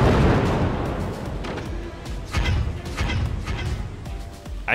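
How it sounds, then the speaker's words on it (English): Incoming missiles strike a fort in the game Forts, bringing a dense run of crashing explosions and thuds over a constant rumbling battle din. "Missiles coming in."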